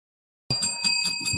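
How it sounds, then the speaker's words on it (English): A bell rung on a sports talk podcast, struck in a quick run of bright ringing strikes, each with a sustained metallic tone, loud and close with no talking. "I'm ringing the bell."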